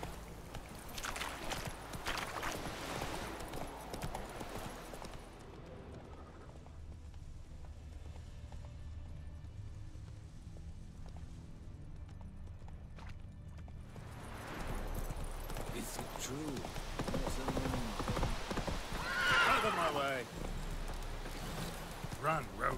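A horse's hooves clip-clop at a gallop in The Witcher 3 video game, with steady rhythmic pounding that drops away in the middle, then returns louder alongside a whinny, while game voices speak over it.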